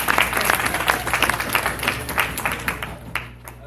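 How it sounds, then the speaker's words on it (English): A crowd at a Kansas City urban farmers co-op gathering claps in a lively burst of individual hand claps, fairly close, tapering off toward the end. "y'all want to clap for him?"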